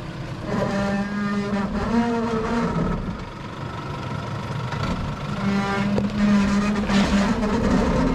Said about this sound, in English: That thing sounds grouse. It's got a V8 5 litre in it.